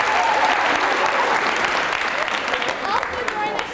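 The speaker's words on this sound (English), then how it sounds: "so everyone give her a round of applause for that." An audience at a performance of Damn Yankees claps in steady, dense applause, loud and continuous throughout, with a few faint voices mixed into the crowd.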